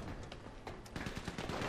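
Rapid automatic gunfire rattles in the video game GTA V Online. A dense, steady burst of shots stays moderately loud throughout the short moment, and no voices are heard.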